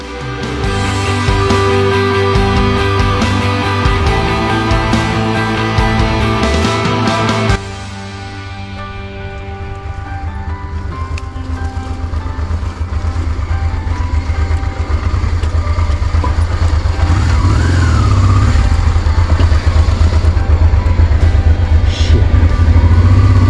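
Motorcycles on dirt trail tracks in the Auvergne pull away at full throttle, one loud close engine roaring and revving before it drops back and builds again into a sustained drone.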